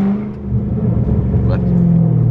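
A Dodge Charger Scat Pack engine idles and rumbles with a muffled, deep exhaust note, exhaust valves closed, rising slightly as it revs gently; close by and fairly loud.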